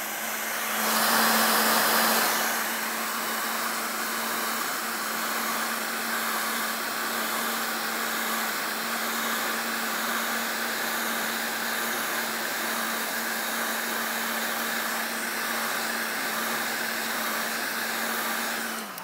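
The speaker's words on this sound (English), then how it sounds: "I'm going to go ahead and turn on my heat gun." Electric heat gun blowing steadily over a plastic deck surface, a continuous close airy roar with a fixed motor hum that briefly surges louder at the start, then holds even and unbroken with no talking.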